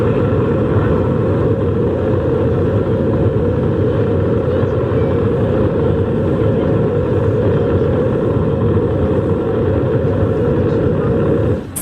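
A rocket's main engines ignite at the end of a launch countdown, heard as a deep, steady roar. The dense rumble holds constant for the whole stretch and only drops off at the very end.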